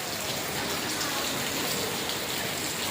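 Light evening rain, easing after a thunderstorm, falls in a steady, even hiss of drops on surfaces, constant and unbroken with no voices.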